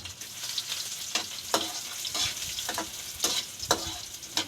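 Ginger frying in a pan while being stirred, a constant sizzle with a spatula scraping and knocking against the pan in irregular strokes every second or so.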